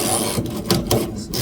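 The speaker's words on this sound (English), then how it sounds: "That bolt is turning the whole time, no matter which way I'm turning this wrench." A wrench turning the bolt on a car battery terminal during a battery change gives a steady, close scraping and rasping with a few brief ratchet-like bursts, heard alone.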